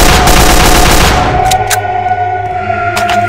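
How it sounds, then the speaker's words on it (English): Gunfire in the Roblox game Radiant Residents rattles as a fast, loud burst of automatic shots for about a second, then gives way to a few scattered sharp cracks over a lingering electronic hum. "Shoot him in the face!"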